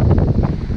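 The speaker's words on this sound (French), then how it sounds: "Vous voyez, hop, je suis complètement emporté par le vent." Strong wind buffets the camera microphone outdoors during a fishing outing, a loud, continuous low rumbling roar with gusty surges.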